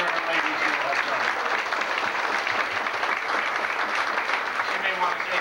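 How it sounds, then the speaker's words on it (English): Guests at a reception for the Feast of St. Mary Magdalena clapping together, a steady, even patter of many hands at moderate volume from start to finish, with faint voices mixed in. "give Nani a great round of applause for all the work her and her ladies here have done."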